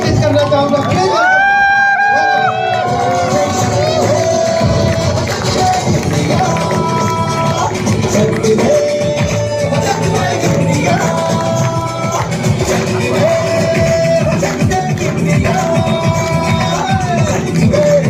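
A large crowd at a dance workshop in Gaya, Bihar, cheers and claps loudly to welcome a speaker onto the stage, with shouting and babble mixed in and music-like tones running underneath.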